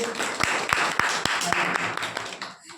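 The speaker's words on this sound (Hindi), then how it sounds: "ताली बजाइए इनके लिए" Hindi-medium schoolchildren in a classroom clapping for a classmate, a steady patter of claps with crisp individual hits, close and moderately loud, fading out at the end.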